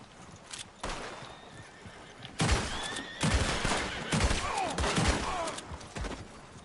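A horse in the Red Dead Online video game whinnies loudly several times over clip-clopping hooves, with bursts of gunfire around it and no speech.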